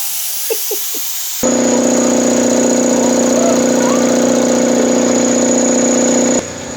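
An earth-digging machine starts up nearby with a loud, steady mechanical drone after a few faint taps, runs evenly for about five seconds, then drops away.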